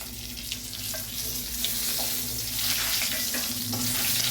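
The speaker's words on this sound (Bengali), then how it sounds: "চিংড়ি ভাজার তেলের মধ্যে আরো কিছুটা সর্ষের তেল দিয়ে দিচ্ছি জিরে আর তেজপাতা সম্বার" Cumin seeds and bay leaves sizzle in mustard oil left over from frying prawns, topped up with fresh oil; a steady, close crackling hiss runs unbroken throughout.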